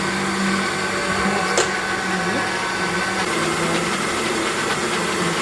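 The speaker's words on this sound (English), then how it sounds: "I'm putting in a blender, and then I'm just going to add a little bit of water so that it can help to stir in the blender." A kitchen blender whirs steadily and loudly as it purées cooled pumpkin leaves with a little water. The motor drones without a break throughout.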